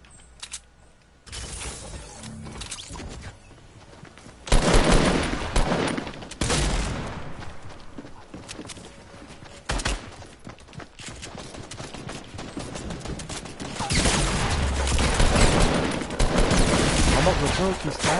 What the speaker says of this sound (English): My gun keeps stopping shooting.